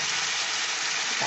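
Vegetable stalks, soaked in salted hot water, sizzle steadily in a hot pan, a dense continuous frying hiss at close range with no talk.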